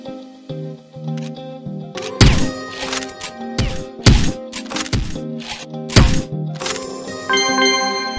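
Reload of an M200 CheyTac sniper rifle in CrossFire: a crisp sequence of metallic clacks, thunks and clicks spaced about a second apart, with a ringing tonal layer underneath.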